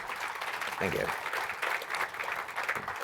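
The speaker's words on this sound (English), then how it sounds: "Ladies and gentlemen, a round of applause for Mark Hancock" Conference audience applauding a speaker at a state drug and alcohol conference session, a steady wash of clapping from a seated crowd, moderately loud, with a host's voice briefly heard over it.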